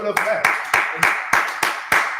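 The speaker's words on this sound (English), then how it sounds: "Clap it up for that" Sharp, evenly spaced claps ring out about every third of a second, close and loud, sounding like a few people clapping in rhythm with a voice underneath.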